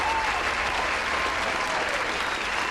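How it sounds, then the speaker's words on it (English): Applause sound effect played during a Baldur's Gate game stream, a dense, steady burst of many hands clapping that sustains evenly throughout at moderate loudness. "Oh, and applause as well."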